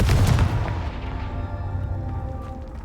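Confringo fire spell blasts in Hogwarts Legacy, a loud booming burst at the start that rolls off into a long fading rumble, with no talk over it.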